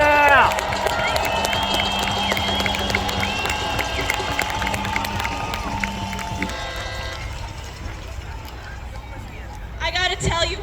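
A crowd at a pre-march No Kings protest rally cheers and claps. Steady horn- or whistle-like tones run over the noise, the crowd eases off, and a fresh burst of cheering rises near the end.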